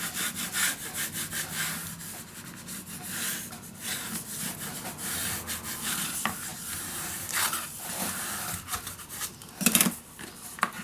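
Paper is burnished down with a tool while a scrapbook mini album is being made, giving repeated close scraping and rubbing strokes in an uneven rhythm, with a sharper clatter near the end.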